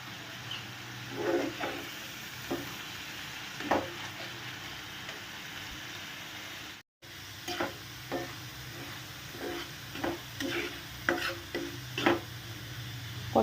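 Spice masala is sautéed in oil for lemon garlic pomfret, giving a soft continuous sizzle under frequent quick spatula scrapes and stirs, close by. A brief moment of silence falls midway, and no one talks.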